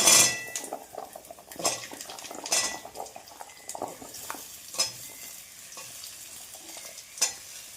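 Potatoes tipped into a pan of frying onions for a spicy winter-vegetable semolina breakfast, with repeated clinks and scrapes of a metal spoon stirring against the pan over a soft sizzle, no voices.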